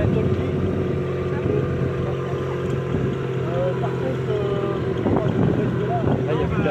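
A motorboat engine drones steadily throughout at a nautical adventure race stage, loud and continuous with a low rumbling hum, while voices talk faintly over it.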